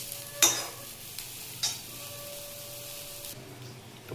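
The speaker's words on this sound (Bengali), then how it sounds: "তো আমি এবার পটলটাকে আস্তে আস্তে করে নামিয়ে নেব।" Pointed gourd (potol) frying in mustard oil in a wok sizzles quietly while a spatula scrapes and stirs in a few short, distinct strokes, with a steady low hiss between them.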